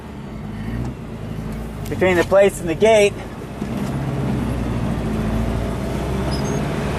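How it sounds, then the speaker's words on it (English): A wood gas powered truck, running on firewood, idles with a steady high-revving engine drone throughout, while someone talks briefly over it. "It's making my idle rev extremely high."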